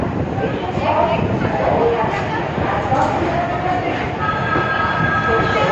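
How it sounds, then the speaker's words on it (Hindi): Train standing at platform 6 of Ujjain Junction, a busy Indian railway station, with a steady loud rumble of rail and station noise throughout and faint voices and announcements mixed in. "ट्रेन पहुंच गई है उज्जैन जंक्शन के प्लेटफॉर्म संख्या 6 पर।"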